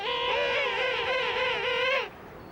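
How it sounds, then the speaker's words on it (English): A single loud, brassy trumpeting call from an adult king penguin rings out for about two seconds, wavering and harmonic, then stops abruptly. "the adults have this really majestic trumpeting sound"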